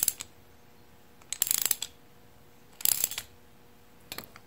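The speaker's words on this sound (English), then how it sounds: "four of the 10 bolts, in an even fashion like that, and tighten this thing up a little bit" Bolts are tightened on the case halves of a Ford 9 inch differential, with short bursts of metallic ratcheting clicks in a few separate spells and quiet gaps between them.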